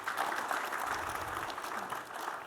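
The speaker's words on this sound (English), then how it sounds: "Please give him a round of applause." Moderate, continuous applause from a conference audience at a quantum technology panel, steady clapping that is fairly soft and slightly distant.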